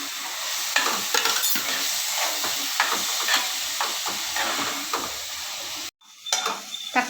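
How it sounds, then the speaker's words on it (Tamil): Chopped tomatoes sizzle and scrape as they are stirred and sautéed in a pan for coconut milk chicken gravy, a steady busy frying hiss with repeated spoon strokes, close and loud, with a brief pause near the end. "தக்காளி நல்லா வதங்கியாச்சு."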